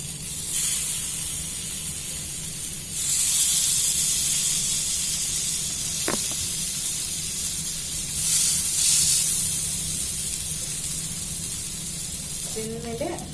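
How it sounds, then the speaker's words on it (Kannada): Elephant foot yam frying in a nonstick pan gives a loud, continuous sizzle and hiss that swells and eases, with one brief click midway and a faint clatter near the end. "ಈ ತರ ಫ್ರೈ ಮಾಡ್ಕೊಂತೀನಿ."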